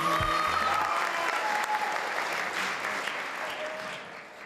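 An audience at a school graduation ceremony applauds the head boy and head girl after their speeches. The dense clapping starts loud and full, then gradually thins and fades over a few seconds, with brief music or voices at the start.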